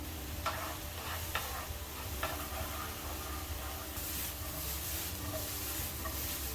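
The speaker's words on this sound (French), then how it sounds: "on met les oignons à suer dans la poêle bien chaude, sans coloration" Onions sweat in a very hot frying pan for ratatouille, making a soft, steady sizzle with occasional light stirring scrapes.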